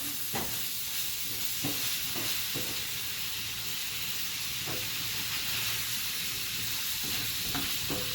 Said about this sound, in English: Gonna go ahead and get some of this flavor in there from the sausage. Fry it up a little bit.